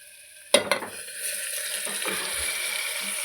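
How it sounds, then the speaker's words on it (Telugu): Tomatoes drop into a hot pan for a tomato methi curry, making a sharp splash of impact followed by a steady, moderately loud sizzle and frying hiss with a few stirring clinks. "ఇప్పుడు టమాటాలు యాడ్ చేసుకుందాం."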